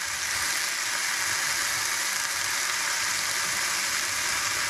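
Calf's liver frying in butter in a pan, giving a steady, dense sizzle that stays even throughout with no voices.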